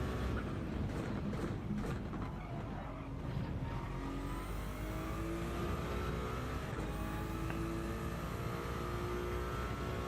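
A race car in a racing video game screams through high revs, its engine note rising and falling through gear changes with a brief tire squeal, loud and continuous with no talking.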